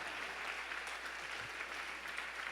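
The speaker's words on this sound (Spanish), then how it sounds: "Denle un aplauso al Señor por ese día" A church congregation at Iglesia Maná in Cartago applauds during a sermon, a dense, even wash of many hands clapping that holds steady and fairly loud throughout, with no voices rising above it.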